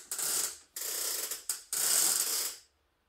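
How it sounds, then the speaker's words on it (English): A ratchet hanger on a Mars Hydro grow light clicks in three quick bursts as its strings are pulled, each a dense, close run of ratcheting clicks with short pauses between, no talk. "Easy to adjust, wind it back up, you just pull the strings."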